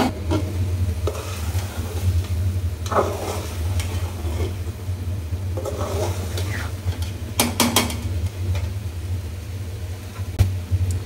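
Prawns going into a pan of bitter gourd curry, with a steady low sizzle, stirring scrapes and occasional clinks of utensil against metal running throughout.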